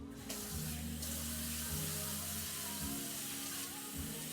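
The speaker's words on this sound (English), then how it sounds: "So I'm washing my hands off." Kitchen tap running steadily while hands are washed after handling meat, a soft continuous stream of water splashing into the sink with small shifts in flow.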